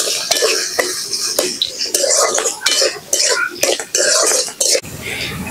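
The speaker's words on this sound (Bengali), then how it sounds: "এখন আমি এই পেঁয়াজের ভিতরে কিছু গাজর কুচি দিয়ে দেব" Chopped carrots stirred into onions in a pan with a metal spoon, loud close scraping and clinking of utensil against cookware in quick repeated strokes, with brief pauses.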